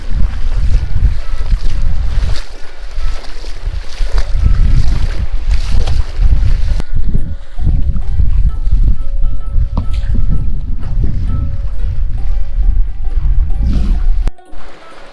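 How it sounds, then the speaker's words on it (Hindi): Water flows across a road near Moola in Khuzdar as people walk through it: a continuous loud rushing wash, heavily buffeted by wind on the microphone. It eases somewhat in the second half and cuts off sharply at the very end. "वो बह रहा है पानी यहाँ पर सारा"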